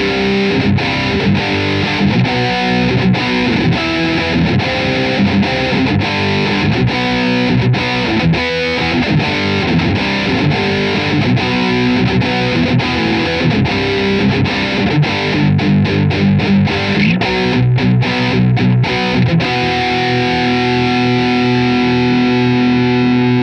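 Grover Jackson DK-42 electric guitar with a bolt-on neck, both single-coil pickups selected, played through distortion and effects in a continuous loud run of riffs and sustained notes.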